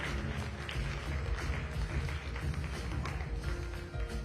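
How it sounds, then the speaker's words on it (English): An audience applauds contestants at the live Miss Kerala 2022 pageant, giving a steady, dense wash of clapping that holds at an even level from start to finish, with no pauses. "Big round of applause for yourselves."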